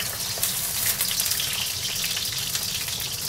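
Garlic fries in a pan as an ingredient for spaghetti. It gives a dense, continuous sizzle and crackle, loud and close, with no voices over it.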